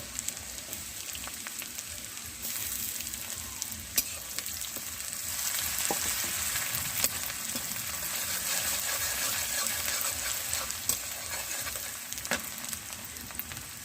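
Onion with chopped ginger and garlic frying in a pan for a dhaba-style chicken egg tadka, a continuous sizzle with occasional stirring scrapes, steady and close, no voices.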